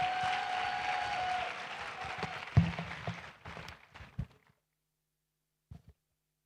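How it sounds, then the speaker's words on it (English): Audience applause at a youth event hosted by African Bank, a dense wash of clapping that tapers off and fades into silence, followed by a couple of faint late claps. "Let's give her a round of applause,"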